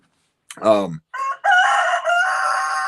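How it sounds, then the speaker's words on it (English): A rooster crows loudly nearby, a full cock-a-doodle-doo in a few rising and held bursts, with nothing else in the background. "there's a rooster. I heard it."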